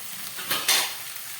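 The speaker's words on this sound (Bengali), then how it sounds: "সবজিগুলোকে আমি একটু ঢাকা দিয়ে ভাজবো" Vegetables fry in a pan with a steady sizzle and two quick scraping stirs near the middle, heard up close with no talking.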